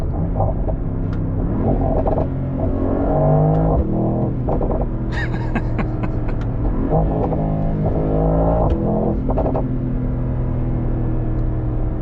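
A 2025 Mercedes-AMG GT 63 Coupe engine revs hard in repeated bursts, rising and falling in pitch with sharp crackles between, loud and close with no voices.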